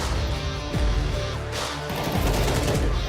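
AK rifle gunfire in Counter-Strike 2, a loud close burst of rapid shots with sharp impacts, layered over game effects during a pro esports match.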